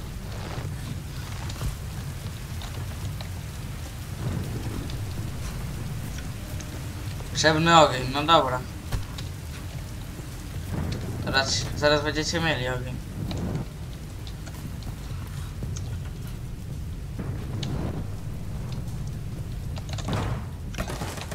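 Steady rain pattering in the Tomb Raider video game, a constant soft hiss of falling water running under a man's occasional speech throughout.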